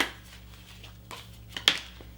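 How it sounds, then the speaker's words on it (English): A Tea Leaf Fortune tarot and oracle card deck is shuffled by hand, giving quiet soft riffling and a few sharper card slaps, close by, against a faint steady hum. "I'm just going to give it a little shuffle together, split the deck"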